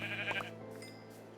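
Sheep bleating inside the blocky sandbox game Minecraft, heard as a couple of short, wavering bleats close by over a quiet ambient game background, with no talking.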